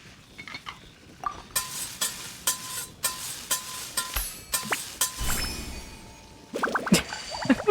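Genshin Impact cooking minigame sizzle, heard as stirring and frying hiss punctuated by a string of bright clinks and taps, with a denser flurry of clicks near the end; no talking.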